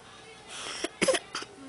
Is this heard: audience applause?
no